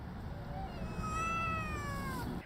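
A feral cat at a shelter gives one long, drawn-out meow, close and clear over a low background hum.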